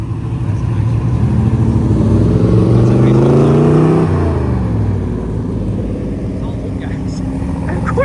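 Vintage cars at a Route 66 parade revving together, a loud, close low engine roar that climbs in pitch and then drops and settles into idling.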